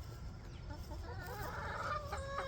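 Backyard hens clucking in a chicken coop, a steady low murmur of soft clucks with a few sharper calls rising near the end, fairly close and with no talking.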